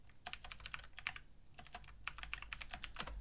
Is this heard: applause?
no